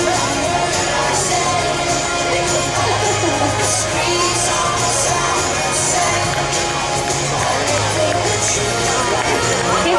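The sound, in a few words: spectators cheering runners at Perth Marathon finish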